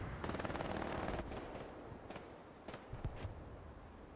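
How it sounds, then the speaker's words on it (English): Gunfire from a multiplayer shooter esports match: a faint burst of automatic fire, then a few separate distant shots, all quiet and thin. "Juicy Brucey now firing, trying to do what he can, takes him out."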